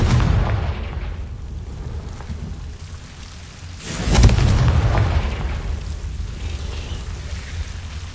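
A Confringo blasting spell explodes in Hogwarts Legacy, a deep boom swelling midway and rumbling away over steady crackling, rain-like noise.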